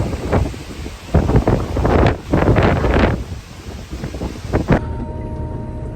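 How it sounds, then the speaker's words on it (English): Strong wind sweeps across a dusty potato field in Holland, buffeting the microphone in loud, irregular gusts and rumbles before cutting off abruptly near the end. "It's quite hard to portray the wind."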